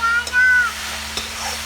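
Fenugreek and spinach greens are stirred and fried in a pan for a Chhattisgarhi jhorha saag. A short burst of close, fairly loud sizzling comes with scraping stir strokes.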